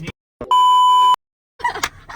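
A single electronic censor beep, a pure steady tone lasting about half a second, cuts loudly into speech, with brief fragments of talk before and after it.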